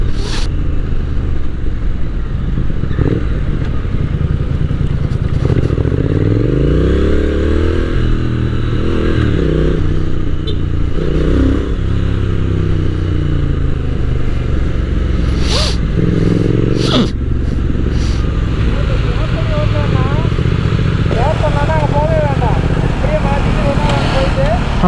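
A Triumph Speed Twin 1200 motorcycle being ridden, its engine droning loudly and rising and falling in pitch as the rider accelerates and shifts, with heavy wind noise and someone talking throughout.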